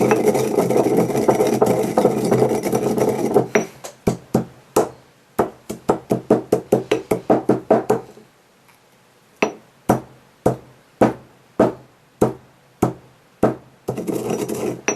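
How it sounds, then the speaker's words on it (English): Incense mixture being stirred and ground by hand, heard as a run of sharp, rapid knocks and clacks, close and loud, coming in bursts between stretches of steady rough noise. "You can get a good stirring motion. It's quite a noisy business, quite therapeutic."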